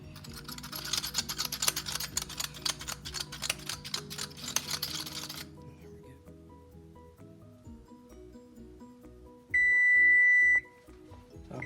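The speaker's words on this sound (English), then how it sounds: "Okay, so our timer's going off." A kitchen timer sounds one sustained, steady electronic beep of about a second near the end, after a stretch of busy clattering kitchen noise that fades to quiet.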